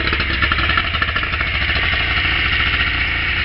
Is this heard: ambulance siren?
no